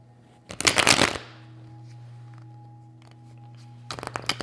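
Two quick riffle bursts of tarot cards being shuffled sound close and crisp, separated by a few seconds of quiet hum.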